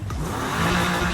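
A short burst of a smooth inline-six engine in a Mazda MX-5 in Need for Speed Heat revving, loud and close, its tone rising briefly with no speech.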